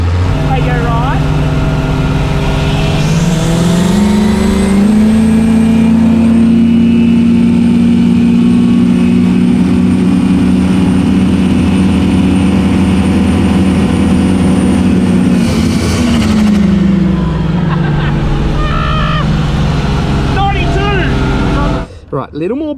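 A Barra-engined boat with a new propeller accelerates hard, its engine note climbing steadily and holding a loud, sustained drone for over ten seconds before easing off, with a voice speaking over it.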